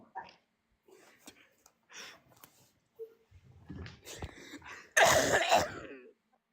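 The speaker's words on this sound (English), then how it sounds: "Bro just coughed like this." A man coughs sharply and loudly near the end, preceded by quieter throat noises and breathing, close to the microphone.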